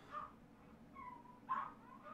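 Dogs bark and whimper faintly in the distance in The Witcher: Wild Hunt, a few short yelps scattered over a quiet ambient background.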